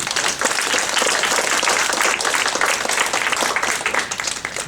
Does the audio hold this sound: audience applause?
yes